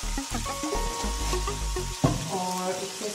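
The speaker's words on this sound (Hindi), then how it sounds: "अच्छे से फ्राई हो गया जिंजर गार्लिक के पेस्ट के साथ" Ginger garlic paste and spices frying in oil in a karahi, a close, loud steady sizzle with stirring scrapes and a sharp clink partway through.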